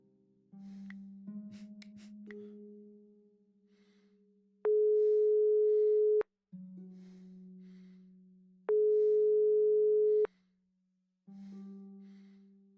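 An unanswered phone call in the video game Broken Sword 5 plays long, steady electronic ringing tones that alternate between a lower and a higher pitch and repeat with short silent gaps.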